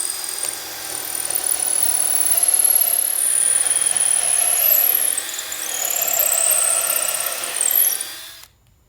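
A power drill bores through clamped wooden support beam pieces for a double-decker bus restoration, giving a sustained high, wavering whine that rises and dips with load before stopping near the end.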